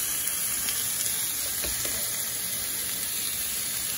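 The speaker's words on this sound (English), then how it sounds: "First we're gonna get the burger down, the burger patty down, and we're gonna let it sear and get some color to it." A burger patty sears on a hot griddle for a New York chop cheese, giving off a steady, close sizzle that holds even throughout, with no talking.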